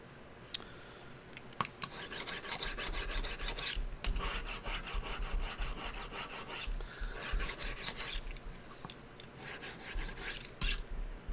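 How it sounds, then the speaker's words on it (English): A dull blade is sharpened with close, rhythmic rasping strokes in bursts, separated by short pauses and a few sharp clicks, with no talking over the scraping. "I got to sharpen this blade."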